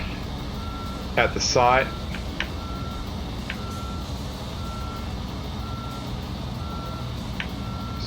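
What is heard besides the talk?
truck reversing beeps in video game Construction Simulator Europe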